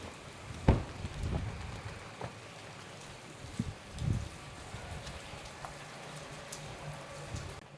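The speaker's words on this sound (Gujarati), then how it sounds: "ચલો ચલો વરસાદ વરસાદ" Rain falling at night on a journey home after a bike breakdown, a soft steady patter with scattered louder drips and taps against nearby surfaces, no voices.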